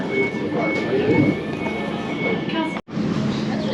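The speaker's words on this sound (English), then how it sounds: "Right, so now we're leaving Custom House." An Elizabeth line train pulling out of Custom House station in London, a steady rumbling interior hum with faint tonal whine and a brief dropout, voices faintly present.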